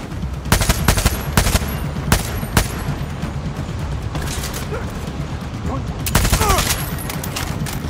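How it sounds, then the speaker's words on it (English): Gunfire in Far Cry 6, sharp bursts of shots in a firefight, several clustered volleys early and late over steady game noise, loud and close. "We're getting shot at."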